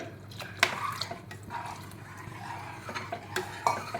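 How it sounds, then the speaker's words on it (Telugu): A spoon scraping and clinking in a pot as gram flour is stirred into cooked onion and carrot for Bombay chutney, with a few sharp metallic knocks amid soft, close stirring and bubbling. "శనగపిండి వేసుకొని కలుపుకుందాము"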